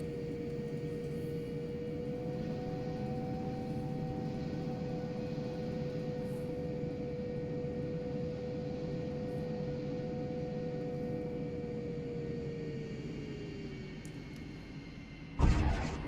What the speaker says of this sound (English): You hear that classic F-104 howl?